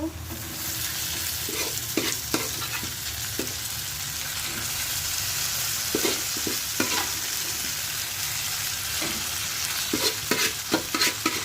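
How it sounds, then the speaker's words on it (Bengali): Meat is stirred into a pan of fried onions for a bhuna curry, with a steady sizzle and repeated spatula scrapes and knocks against the pan throughout. "এবার আমি মাংসটা দিয়ে দিব"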